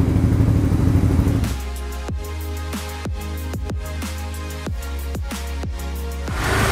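Motorcycle engine fitted with a smoke muffler and honeycomb dB killer, revved in a series of sharp throttle blips over a steady idle, loud and close, with no speech.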